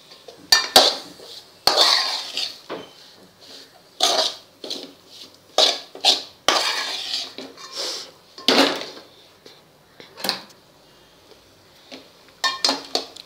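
Boiled potatoes and coriander being mixed in a pan for batata vada filling, with bursts of spoon scraping and clinking against metal separated by short quiet gaps.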